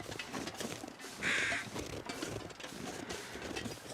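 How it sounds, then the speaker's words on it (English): Crows caw in a video game while exploring near a dilapidated house, a short, fairly loud call standing out over a steady, dense game ambience of rumbling and mechanical noise. "Remember, if you hear crows,"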